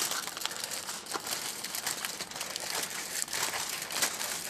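Parchment paper crinkles and crumples steadily as it is folded by hand around sausage en papillote, with dense, continuous crackling close to the microphone and no talking.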